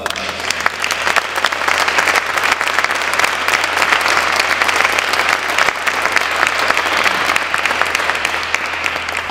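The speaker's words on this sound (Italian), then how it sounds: "se Sergio Bonelli vuole un applauso" Steady, dense audience applause fills the room without pause, many hands clapping at an even level from start to finish.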